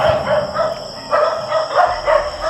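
Dogs at a house bark in repeated bursts, close and fairly loud, with short gaps between volleys.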